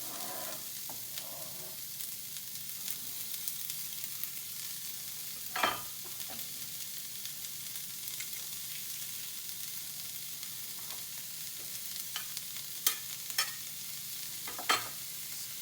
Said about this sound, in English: I'm going to add them to a pan with about a tablespoon of oil. And we're going to saute that with the garlic for about 5 minutes.